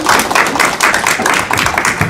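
A crowd applauds continuously at a launch ceremony in Jecheon, a dense wash of many hands clapping at steady loudness.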